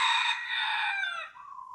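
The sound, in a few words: chicken clucking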